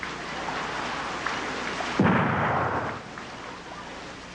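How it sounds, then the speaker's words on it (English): Gunfire stands in for thunder in a rain-themed music piece: a steady rain-like hiss runs throughout, and a loud, booming, thunder-like burst strikes at about the midpoint before fading over roughly a second. "There's no thunder, so he used gunfire."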